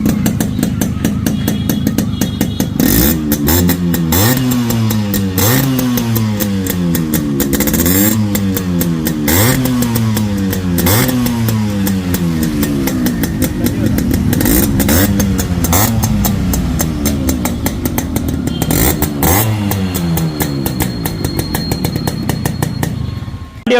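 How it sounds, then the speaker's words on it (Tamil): A restored Yamaha RX two-stroke motorcycle engine idles with a rapid, loud, close beat, then revs up repeatedly in rising and falling bursts, with sharp crackles between pulls and no talking. "இப்போ இந்த வண்டியோட பீட் சவுண்ட் கேட்கலாம் வாங்க."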